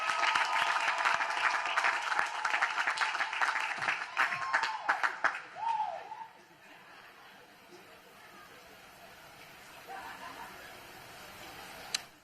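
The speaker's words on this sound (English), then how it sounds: "let's give our mothers and grandmas a round of applause" A university graduation audience gives a round of applause for mothers and grandmothers, loud dense clapping that fades out after about six seconds into quieter crowd murmur and scattered chatter.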